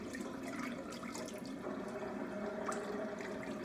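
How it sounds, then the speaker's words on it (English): Steady gurgling rush of water draining from a sink after washing collard greens, continuous and fairly close, with no voices. "So I am going to let this water out."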